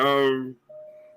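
A voice sounds briefly, then a single steady electronic chime tone rings for about half a second, clear and close.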